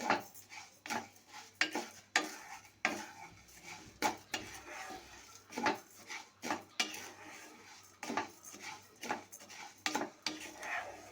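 Sugar stirred in a pan over very low heat for butterscotch praline, quiet repeated scraping and light clinks of a spoon against the pan in an uneven rhythm, close and soft.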